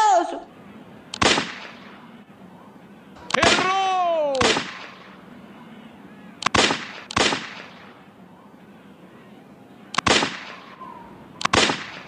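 Gunshots ring out during target shooting in a western video game, with about eight sharp, loud reports spaced irregularly and some in quick pairs. A sweeping whistle-like tone follows one pair of shots.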